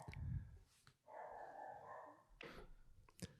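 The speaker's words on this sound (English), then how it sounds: "he's really barking it up" A dog barking indoors, faint distant yips and barks with a whimpering tone separated by quiet background, low in level and heard alone.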